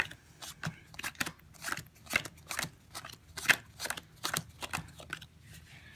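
Playing cards being dealt and handled into separate piles for a card trick, a steady run of crisp close snaps and slaps, with soft background sounds between strokes.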